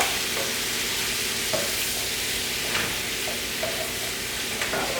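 Carrots for a veggie stir-fry are tossed and stirred in a hot pan, a steady close sizzle of frying with brief scraping and clattering strokes of the utensil throughout.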